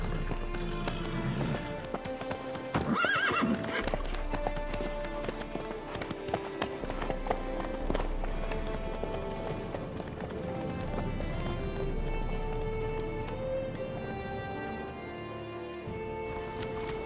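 Horse hooves clip-clop steadily under music and ambient sound in a video game, with a brief snort or whinny near the start and a continuous rhythmic gait throughout.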